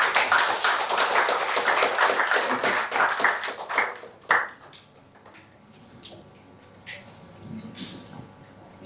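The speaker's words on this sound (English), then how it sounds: "Let's give another warm round of applause to Mr. Moses for his very detailed presentation" A room of people at an economics workshop applauds after a presentation, with dense clapping that fades, a sharp clap, then scattered faint sounds and quiet talk.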